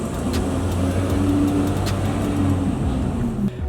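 A car fitted with an AWE Touring exhaust accelerates, giving a loud, steady, throaty engine roar that holds strong throughout without any talk.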